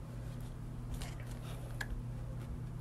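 Ketchup squeezed from a bottle onto food during a meal, a few soft wet squishes and one sharp splat, close but quiet.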